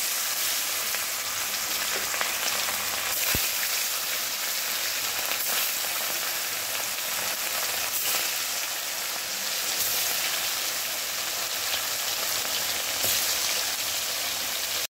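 Fish frying in hot oil, a continuous dense crackling sizzle held at even loudness, with a few faint clicks and no talking.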